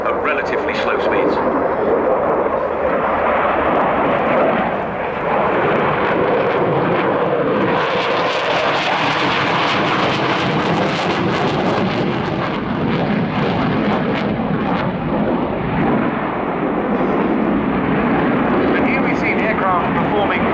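A Rafale C fighter jet flying an airshow display roars loudly and continuously, swelling in intensity midway, while a commentator talks over it throughout.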